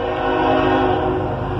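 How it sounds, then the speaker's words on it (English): A train passes near a building with its horn sounding, a loud sustained chord blaring over the rumble of rail cars, close and dominant throughout. "here comes a train"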